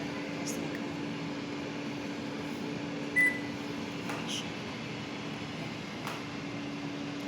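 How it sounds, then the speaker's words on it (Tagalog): A microwave oven heats a cheeseburger with a steady low electrical hum and faint whir, broken by a couple of brief clicks and a short beep-like tone. "ang gagawin ko, lalagay ko siya sa microwave"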